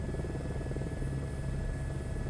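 A helicopter in Microsoft Flight Simulator 2024 lifts off backwards from a helipad, its rotor thumping in a fast steady chop over a continuous engine drone and a thin high whine, no voices.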